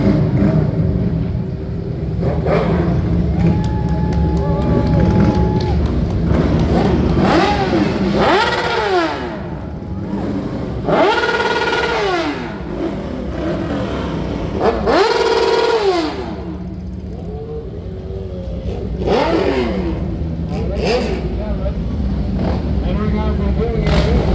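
Motorcycles at a Veterans Day parade in Martinsburg, West Virginia, rev repeatedly as they roll past, with rising engine whines swelling and fading in several waves over a steady crowd murmur and street rumble.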